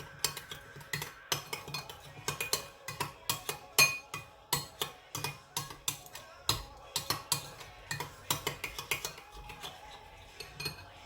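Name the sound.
mixing ranch dressing into a bowl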